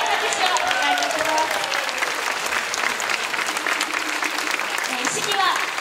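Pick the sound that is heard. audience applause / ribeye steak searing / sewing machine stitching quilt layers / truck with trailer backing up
audience applause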